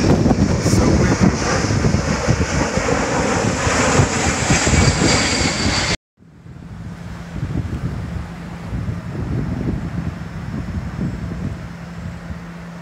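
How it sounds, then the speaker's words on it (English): Strong, steady wind roars and buffets the microphone beside railway tracks, loud and continuous for about six seconds before dropping to a lower, gusty rush with a faint hum beneath. "So windy."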